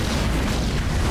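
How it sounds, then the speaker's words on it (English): A scatter bomb explodes in Halo Wars 2 as one loud, close, rumbling blast that fills the whole moment with dense noise. "There's a scatter bomb."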